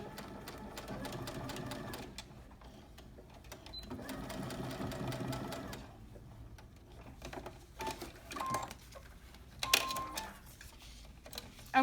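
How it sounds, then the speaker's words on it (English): A sewing machine stitches a petersham-covered waistband in two steady bursts of rapid needle chatter, followed by quieter handling clicks and a brief final run. "I'm going to stop sewing when I hit the end of my placket"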